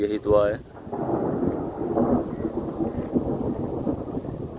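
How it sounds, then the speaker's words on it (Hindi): Thunder from storm clouds over village fields rolls as a deep, continuous rumble, with a brief spoken voice at the start before the rumbling carries on alone. "आप बादल के गरजने की आवाज़ भी सुन सकते होंगे।"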